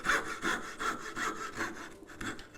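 Tenon saw cutting a dovetail by hand in wood, a steady run of rhythmic rasping push strokes, about six close strokes that slightly change pitch, heard alone.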